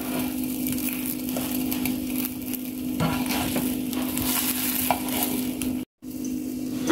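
Beaten egg folded into three layers frying in a pan gives a steady sizzle with soft scraping strokes, dropping out briefly near the end before resuming.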